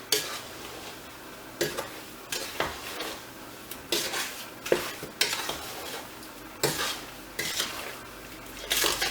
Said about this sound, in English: I'm going to give it a good stir.